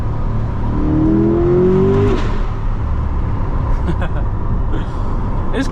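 A Chevrolet C8 Corvette engine revs up in a rising pull that fades after a couple of seconds into a steady driving drone, heard from inside the car.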